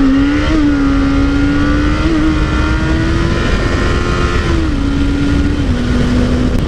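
A car at a street rod show does a burnout, its engine holding a loud, steady high-revving drone with slight pitch wobbles throughout, up close and with no talk.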